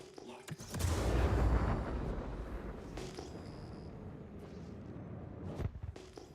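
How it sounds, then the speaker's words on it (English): Rapid bursts of video game gunfire from an outpost area, a dense rumbling volley swelling early then continuing as scattered shots and booms at mid distance, with faint background noise between. "This guy's just shooting around."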